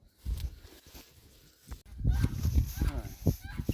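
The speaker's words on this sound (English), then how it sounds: "Geese have been very noisy today." Geese honk repeatedly at moderate distance, a busy clamor of overlapping calls that grows louder partway through, mixed with outdoor background noise.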